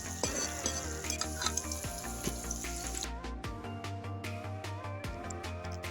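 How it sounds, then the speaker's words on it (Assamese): Duck meat frying with onions, turmeric, red chili, ginger and garlic in a pan, a crackling sizzle broken by sharp clinks of a spoon against the pot. "এতিয়া পিঁয়াজ আৰু মছলাখিনি ভালদৰে সিজি আহিছে, তেনেকুৱাতে ইয়াত মই দি দিম মাংসখিনি।"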